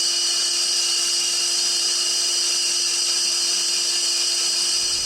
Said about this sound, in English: take this over to the bandsaw. I want to cut it right down the middle, separate it into 2 separate pieces